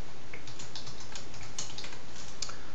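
Steady, close-up typing of code on a computer keyboard, with a quick run of light key clicks and occasional sharper taps over a quiet background, no voices.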